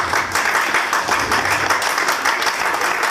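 Loud, dense applause from an audience at a live poetry and ghazal event, welcoming poet Dr. Kumar Vishwas, with steady clapping holding for several seconds.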